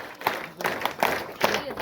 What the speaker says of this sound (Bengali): আমরা একটু হাততালি দিই একসাথে